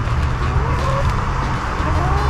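Hens cluck on and off in a sunny outdoor spot, fairly close, over a steady low rumble of background noise.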